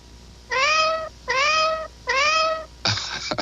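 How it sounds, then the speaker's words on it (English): A cat meows in a 1979 Meow Mix television commercial, giving three distinct, evenly spaced meows up close, followed by a short burst of noise. "You meowed twice for the second Meow Mix."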